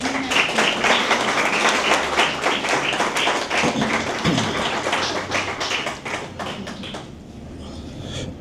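An audience at a poetry reading breaks into applause, dense and loud clapping that holds for several seconds and then thins and fades toward the end.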